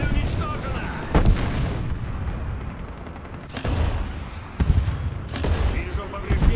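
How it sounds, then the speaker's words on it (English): Tank cannon and missile fire in War Thunder's armored combat, with several loud booming shots at irregular intervals over a rumbling battlefield background. "perfect shot. Looked like that missile went right straight through"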